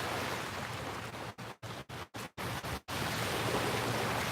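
Ocean waves at the beach make a steady, close wash of broadband noise, broken midway by several brief dropouts before the surf sound continues unchanged; no one speaks.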